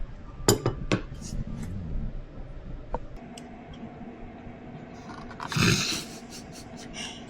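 Tableware at a traditional Japanese ryokan is handled up close: a few sharp clinks of dishes and utensils early on, quieter rattling, then a louder clatter near the end.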